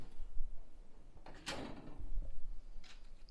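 Snap-on toolbox drawer in a home workshop sliding on its rails, one quick rattling slide and soft knock standing out from quiet room noise, with a fainter shuffle afterward.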